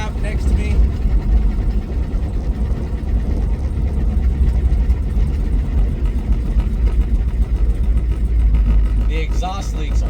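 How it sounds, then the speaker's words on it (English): An LS-swapped Plymouth Satellite with a leaky exhaust rumbles steadily and loudly from inside the cabin while driving, giving a constant deep drone with a rough, raspy edge. "The exhaust leaks are horrible."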